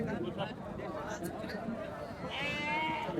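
Sheep bleat now and then at a busy sheep market in Kadur, Karnataka, heard through the chatter of nearby people talking.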